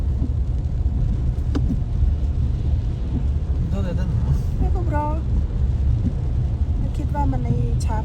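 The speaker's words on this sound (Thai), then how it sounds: "ฝนตกอากาศมืดครึ้มยังหนาวอยู่นะทุกคน" Steady rain falls outdoors on a dark, cold, overcast day at a market in Sweden, a constant loud hiss throughout, with voices talking briefly now and then.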